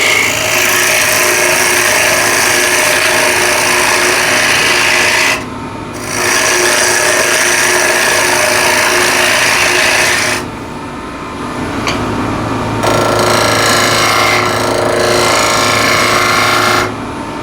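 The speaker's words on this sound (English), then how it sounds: "Get nicely into a corner with the spindle gouge" A spindle gouge cuts into a spinning yew box on a wood lathe, a loud continuous scraping hiss in long passes separated by brief quieter gaps while the lathe hums underneath.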